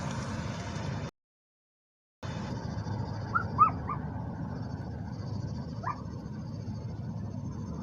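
A dog shut inside a big SUV gives a few short, muffled yips and barks from a distance, with steady outdoor background noise in between.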